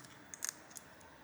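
Small sharp plastic clicks come from a keyboard connector being pressed into place inside an Asus Zenbook Duo UX481F laptop, a quick cluster followed by one or two lighter ticks, very quiet and close with no talk.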